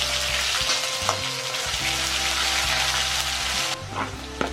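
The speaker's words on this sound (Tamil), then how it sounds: "அதில் தாளிக்கிறதுக்கு தேவையான அளவுக்கு உளுத்தம்பருப்பு, கொஞ்சமாக சீரகம், கடுகு," Urad dal, cumin seeds, mustard seeds and ginger garlic paste sizzle and crackle steadily in hot oil while being tempered, a close, continuous frying hiss with occasional stirring clinks and no talk.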